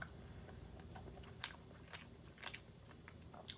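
Quiet, close crunching bites and chewing of kimchi and pupusas, a few sharp crisp snaps spaced irregularly over a soft background hiss.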